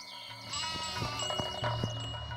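Goats herded by a shepherd bleat several times in overlapping wavering cries, close and fairly loud, with a faint jingle in the background.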